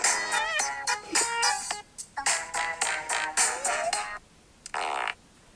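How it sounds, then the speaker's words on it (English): Novelty fart sound effects play from a Fartist Club toy's phone app in DJ mixer mode, a loud run of varied, rapid bursts strung together into a remix, with brief gaps and a final longer blast. "It's DJ Fart"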